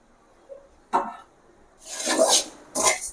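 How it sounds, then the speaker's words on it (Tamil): Steel cut oats being dry-roasted in a pan for halwa make three short, close bursts of dry, gritty rustling and scraping, separated by near silence. "நம்ம ஓட்ஸை நல்லா வறுக்க போகிறோம்"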